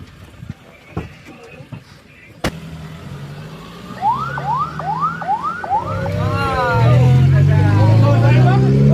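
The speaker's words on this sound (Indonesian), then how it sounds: "Ambulannya, ambulan." An ambulance siren wails in rising and falling sweeps during a tsunami evacuation along a beach, growing louder amid sharp knocks, traffic rumble and voices of people nearby.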